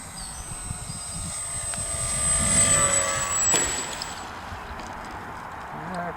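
A small aircraft descends to land with its throttle eased back, giving a steady mid-distance engine drone that swells briefly and then fades, over a faint high whine and breezy outdoor noise.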